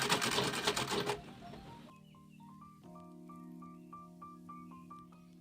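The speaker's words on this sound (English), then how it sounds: "I'm going to sew this. So you have to back stitch." A sewing machine stitches a fabric bag in short runs of rapid, even mechanical clatter after an opening louder burst, fairly close and with no talk.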